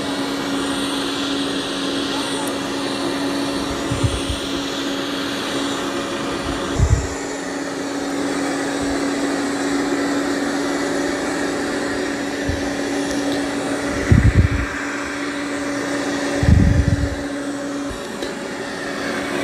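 Roborock S8 MaxV Ultra or Dreame X40 robot vacuum running on carpet, a steady whirring hum with a thin whine held throughout, broken by a few brief low thumps and bumps, while a person talks over it.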